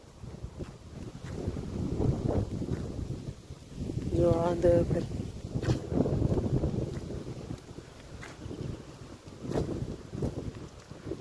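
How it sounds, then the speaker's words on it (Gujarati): Strong wind blows across an outdoor rural spot in Kathiawad, a steady rumbling roar in waves that buffets the microphone, with a person speaking briefly through it. "અત્યારમાં પવન એવો નીકળ્યો છે"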